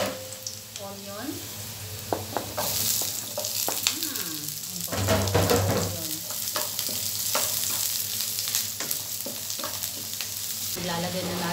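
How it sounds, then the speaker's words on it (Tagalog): Garlic frying in hot lard while being stirred, a steady close sizzle broken by repeated scraping strokes of a utensil against the pan. "mainit na yung manteka. Ilalagay na natin yung garlic. Halu-haluin lang natin hanggang maging brown siya."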